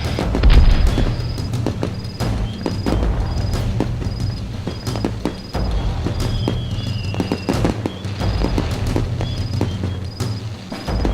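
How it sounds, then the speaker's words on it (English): Repeated booms and sharp crackling bursts pop at a steady pace over a continuous rumbling backdrop, with whistling streaks rising between them. "Cannons fired from the top of the Tower of Tribulation, setting the sky ablaze with bursting, crackling orbs."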